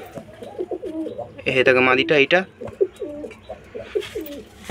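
Dobaj pigeons, a breeding pair at their nest with two eggs, coo in repeated low rounded phrases close by, while someone speaks over and between the calls.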